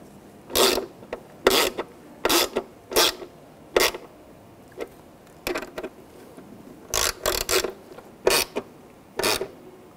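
A hand ratchet tightens nuts on a 2006-2009 Mercedes-Benz E350 tail light, giving short bursts of sharp clicking pawl strokes in irregular groups, close and clear with quiet gaps between.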